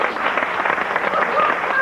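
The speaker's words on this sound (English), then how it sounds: "Let's give a big round of applause." A TV studio audience claps steadily through the short stretch, a dense, even patter of many hands at moderate loudness without a clear break.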